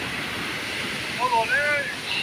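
A rushing mountain river on the Manimahesh Yatra route near Dhancho in Bharmour, Chamba, Himachal Pradesh, roars as a continuous broadband wash of water, with a few thin whistle-like chirps rising over it toward the end.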